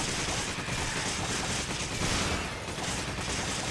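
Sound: gunfire in Resident Evil 5 video game

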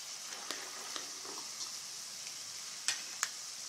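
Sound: peanuts and roasted gram frying in pan

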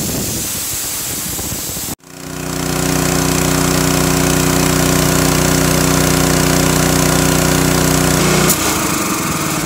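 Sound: Honda GX160 engine revving back to high RPM

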